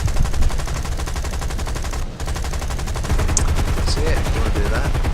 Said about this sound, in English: I'm going to go do a strafe run through the center here, just to shoot people with my gun